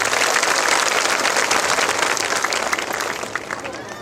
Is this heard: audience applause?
yes